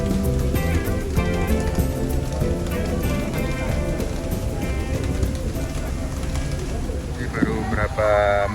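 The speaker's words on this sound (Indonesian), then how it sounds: "Berapa menit jalan langsung hujan teman-teman." Steady rain falls, heard from aboard a small boat, as a dense patter under constant talk and background engine rumble, with a brief electronic tone near the end.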